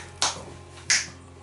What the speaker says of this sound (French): Un claquement de doigts